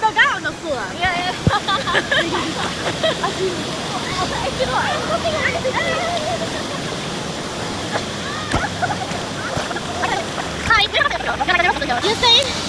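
A waterfall roars as a continuous wash of rushing water behind nearby voices of people chatting at close range.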